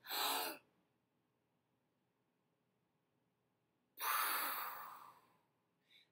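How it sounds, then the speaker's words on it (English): Two deep, calming exhaled breaths used to settle upset feelings, a short breathy sigh at the start and a longer, stronger exhale after a silent pause, each close and clear with no talk over them. "Bear breaths can calm your body and help your brain work when you're feeling upset."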